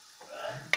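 Chicken pieces are turned over in a frying pan with a brief scrape and stir against a soft background sizzle. A sharp clink of the utensil follows near the end.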